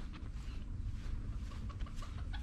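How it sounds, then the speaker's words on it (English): Turkeys loose outside their pen on a farm give faint clucking and gobbling calls, scattered through steady outdoor background noise at a distance. "Why are those turkeys out?"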